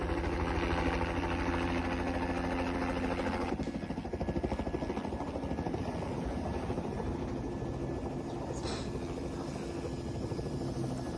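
A helicopter used to pick up and drop off lumberjacks at a remote logging site. Its rotor drones steadily and loudly throughout, and a voice talks faintly over the engine noise.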